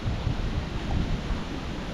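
Strong wind gusting through a vegetable garden with radish beds and orchids, a steady broadband roar with low rumbling buffets, loud and continuous with no voices.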